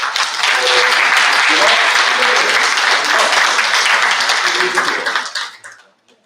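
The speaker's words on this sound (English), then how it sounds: "So please give a big hand of applause." A school conference audience gives a loud, dense round of applause that holds steady for several seconds, then quickly dies away to silence.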